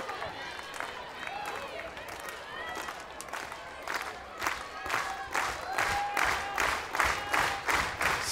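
Stadium crowd at Sanders Stadium cheering for the Oregon Ducks during a 2017 NCAA softball super regional against Kentucky, rising applause and rhythmic clapping with whistles, swelling toward the end under a commentator's talk.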